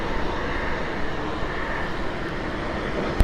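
A Frontier Airbus A321neo airliner at Cleveland Hopkins airport produces a steady, broad jet-engine roar that holds evenly from a moderate distance, with no speech.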